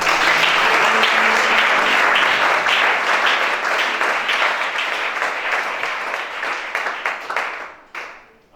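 A church congregation at a deliverance worship service bursting into loud, dense applause for the Lord Jesus, sustained clapping that gradually thins and fades out near the end.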